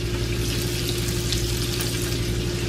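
Cubed ham, chopped green onions and fresh thyme warm in a pan with a steady, fairly loud frying hiss and a low hum underneath, no voices.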